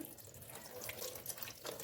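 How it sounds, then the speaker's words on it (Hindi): Water streams out of grated radish as it is squeezed and twisted in a cloth or net, a steady close trickling and splashing with no talk. "अभी हम इसको अच्छे से पानी को निचोड़ेंगे"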